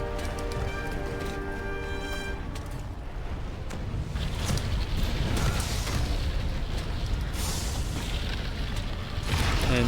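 The colossal Elder Dragon Zorah Magdaros erupts in Monster Hunter World, a continuous dense rumble of explosions and crackling bursts that stays loud and unbroken throughout, with a tonal ring fading early on.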